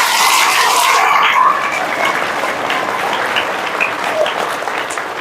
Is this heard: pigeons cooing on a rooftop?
no